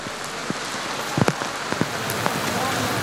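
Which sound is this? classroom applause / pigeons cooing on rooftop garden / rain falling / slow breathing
rain falling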